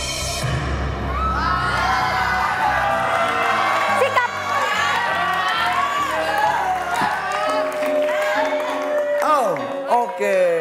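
A game show studio audience on Family 100 cheers and applauds loudly, with shouts and whoops rising over dense clapping and a lively music bed, sustained throughout with a few sharp bangs.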